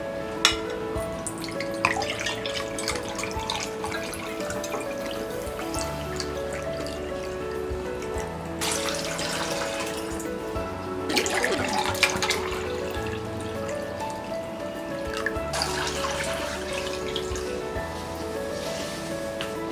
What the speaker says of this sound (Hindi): हम पैन में 2 कप पानी डालेंगे।